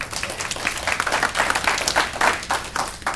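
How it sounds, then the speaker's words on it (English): Audience applause at a live public speaking presentation, brisk scattered clapping from a modest crowd, pulsing in short swells throughout. "Give her a round of applause."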